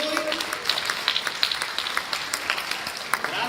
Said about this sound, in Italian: un applauso anche al gruppo 2 e al gruppo 1